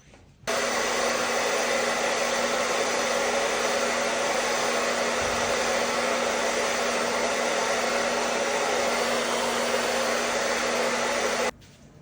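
Hair dryer blow-drying medium length hair, switched on after half a second and running as a loud, steady, even whirring roar for about eleven seconds before cutting off, close by with no talk.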